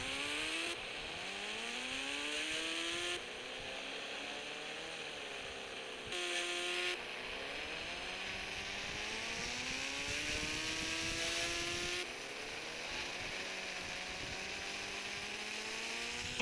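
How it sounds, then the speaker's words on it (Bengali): A golden KGF motorcycle's engine revs in the video game Indian Bikes Driving 3D, a steady synthetic drone whose pitch climbs and falls repeatedly as the throttle changes, with no speech. "আজকে তুমি পাচ্ছ একটা বাইক গোল্ডেন কালারের কেজিএফ বাইক"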